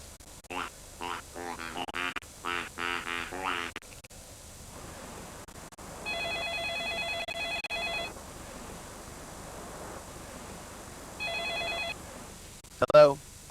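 A phone rings in two bursts of a repeated electronic trill, first for about two seconds and then more briefly, with quiet background hiss and a short burst of talk before the rings.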